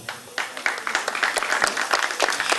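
Applause from a fashion show audience in Naples greeting the event's patron, a steady wash of many hands clapping at moderate distance, building slightly and continuing throughout without speech.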